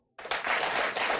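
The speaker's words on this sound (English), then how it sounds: "And if you don't, applaud now." Studio audience bursts into applause on a CNN talk show, dense clapping starting abruptly after silence and holding loud and close for about a second.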